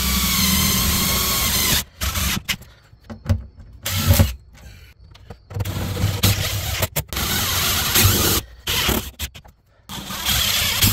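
A power driver sets self-tapping screws into the floor of a Jeep Grand Cherokee WJ, with repeated bursts of whirring and grinding separated by short quiet pauses, loud and close with no talk.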